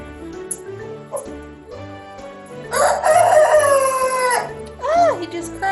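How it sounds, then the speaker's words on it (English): A rooster crows on a farm in one long, loud, drawn-out call rising and falling near the middle, followed by a shorter call, over background speech and other animal noise. "He just crowed."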